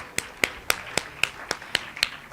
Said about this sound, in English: Shall we give them a big round of applause?